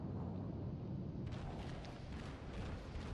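Main guns of the Ishizuchi battleship in World of Warships let loose a muffled, distant-sounding salvo, a low rumbling roar that swells and lingers over steady background noise.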